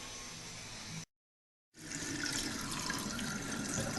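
Aquarium water from a Fluval FX5/FX6 canister filter pours steadily into a sink, a broad rushing splash that cuts out briefly and then resumes just as strong, with no talking.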